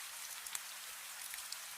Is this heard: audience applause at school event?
no